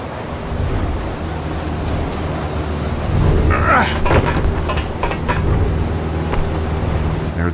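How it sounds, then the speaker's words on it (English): Strong wind rushes from airship propellers running at full speed on the roof of an airship in an Indiana Jones video game, a loud, steady roaring gust that builds slightly midway, with no talk over it. "With the propellers running at full speed, it was real cold and real windy."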